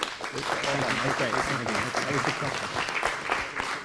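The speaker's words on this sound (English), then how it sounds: "Another round of applause for Christopher." A forum audience applauds with steady clapping, while a voice talks clearly over it throughout.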